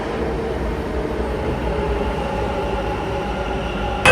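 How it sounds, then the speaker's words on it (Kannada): A Bangalore metro train rumbles steadily close by as it pulls into Majestic station, a continuous loud mechanical drone with a brief rise at the very end. "ಬಂತು ನೋಡ್ರದ ಇದ ಮೆಟ್ರೋ"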